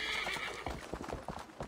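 A horse in Assassin's Creed Valhalla whinnies over the clatter of hooves, a brief neigh followed by quick clip-clopping steps close by.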